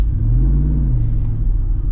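A 2026 Jeep Gladiator V8 Hemi engine rumbling at idle or light rev, a deep, steady, loud low-end burble heard close up and alone.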